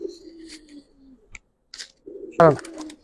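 A Giribaz pigeon gives low, rolling coos near at hand, two short phrases with a faint click and rustle between them.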